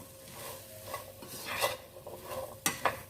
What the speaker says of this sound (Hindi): ये हम मिक्स कर लेते हैं।